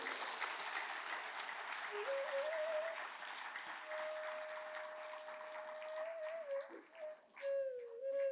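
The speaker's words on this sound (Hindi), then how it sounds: "रोहतास जिला संत समाज के लिए एक बार सभी तालियों की गड़गड़ाहट करें" A crowd at a spiritual discourse gathering in Rohtas district applauds faintly and at a distance, a soft hiss-like wash of clapping with a thin steady tone running over it.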